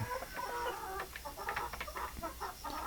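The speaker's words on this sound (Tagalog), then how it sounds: "ito yung mga manok na nag 6 months pa na hindi pa sila pwede mangitlog" Six-month-old hens and roosters, not yet laying, cluck and chatter softly in a pen, with scattered short calls over steady faint background noise.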